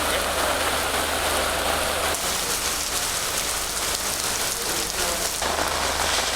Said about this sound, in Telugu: తెలంగాణలోని పలు జిల్లాల్లో కూడా భారీ వర్షం పడుతోంది